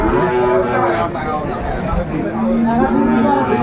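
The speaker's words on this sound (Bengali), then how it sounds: "গাভী বাছুর দেখলাম" Cows and calves moo loudly and close by at a busy livestock market, with several overlapping low calls amid background crowd chatter and people talking.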